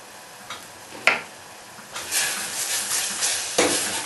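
Plain minced beef simmers and sizzles in a pan with a soft continuous hiss, broken by a few clinks and scrapes of stirring, close and moderately quiet, no voices.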